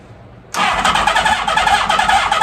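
A 1980 Honda CB650 motorcycle engine catches with a sudden loud start after a brief quiet moment, then keeps running at a rough, steady idle close by.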